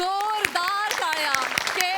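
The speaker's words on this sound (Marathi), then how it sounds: "जोरदार टाळ्या" Audience applause at a Marathi stage comedy show, heard as a patter of clapping under a strong tonal voice or music line through the whole stretch.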